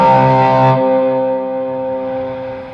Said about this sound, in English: That's a long reverb.